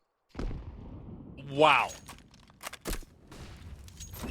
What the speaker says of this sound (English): Very nice HE grenade.